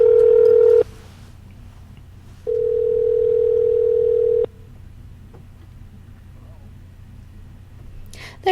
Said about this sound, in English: Alright, so we're ringing him right now.